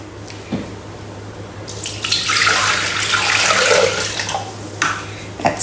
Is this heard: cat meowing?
no